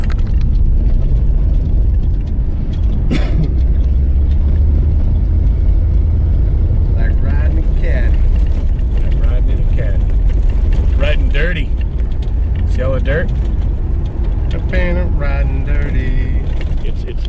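An off-road vehicle rolls over rough ground, a loud steady engine rumble with a rattling low roar throughout and someone talking over it.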